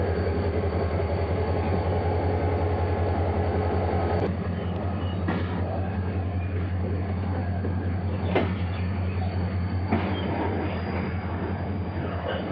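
A KCR Express train hauled by a DMV locomotive on the Karachi Circular Railway rumbles steadily with a deep engine drone, punctuated by a few sharp clanks and knocks of the carriages.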